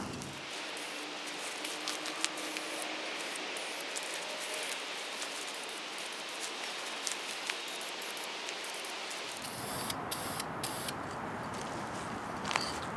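An aerosol spray can hisses steadily while coating a kick panel for a 1973–87 non-AC Chevy C10 cab, close and continuous, with a short shift in tone near the end.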